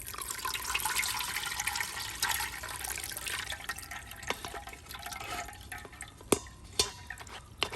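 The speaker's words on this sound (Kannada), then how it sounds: "ಈಗ ಇದಕ್ಕೆ ಮೇಲ್ಗಡೆಯಿಂದ ತಣ್ಣೀರನ್ನು ಹಾಕ್ತಾ ಇದ್ದೀನಿ" Cold water is poured from above over cooked sago in a strainer, giving a continuous splashing rush that thins into scattered drips and trickles toward the end.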